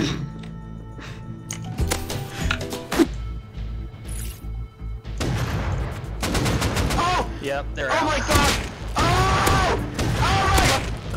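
Bursts of automatic gunfire in the game Rust, loud rapid shots clustered in the second half with ringing metallic tones, preceded by a few scattered bangs and clunks, with shouting voices mixed in.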